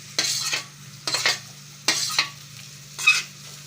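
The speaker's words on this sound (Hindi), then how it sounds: "अब हम इसके अंदर प्याज डाल देंगे।" Onion paste goes into a hot beef karahi and gets stir-fried, four short sizzling scraping bursts of a spoon against the pan, each followed by quieter frying hiss, close and clear with no talk.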